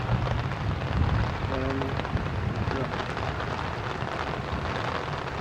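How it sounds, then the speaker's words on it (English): Heavy rain pours steadily during the 1996 flood in Salem, Oregon, a dense continuous wash of water close by, with a brief tonal sound partway through. "More than a little rain in here,"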